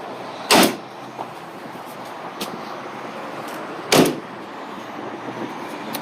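The split rear bed door on a 2019 RAM 1500 4x4 Limited V8 swings open like a suicide door, giving two sharp metallic clunks a few seconds apart, close by, over steady outdoor background noise.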